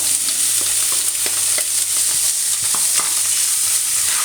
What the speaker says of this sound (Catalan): Ara en el mateix oli on hem fregit el bacallà hi tirarem la ceba.